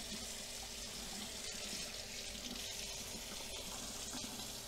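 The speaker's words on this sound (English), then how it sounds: "Let's rinse it off over here right quick." Steady running tap water pours and splashes in a sink as a chunk of refined gold is rinsed under it, continuous and fairly soft, with no voices.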